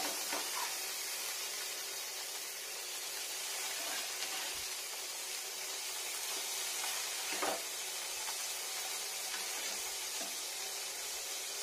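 Paneer slices fry slowly on low heat in a pan, a steady, close sizzle and hiss running throughout with a few faint clicks and scrapes.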